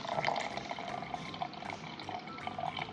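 Liquid poured into a container for a banana milkshake with ice cream, a soft continuous trickle and splash at close range, fairly quiet and steady throughout.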